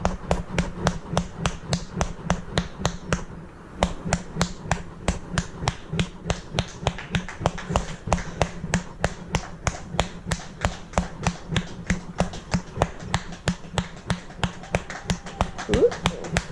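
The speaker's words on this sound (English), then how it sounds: "we're starting to get clapping now" Neighbours clapping outdoors, a steady run of sharp, evenly spaced claps lasting throughout, with a brief pause early on and a faint voice near the end.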